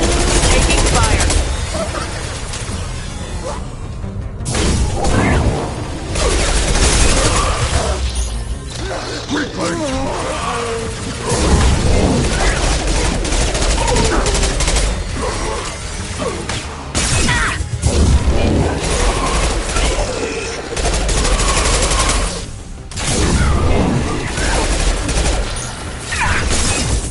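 Rapid bursts of gunfire and crashing impacts from a Mass Effect 2 firefight fill the scene, loud and near, continuing throughout with short gaps, while a voice talks over the combat.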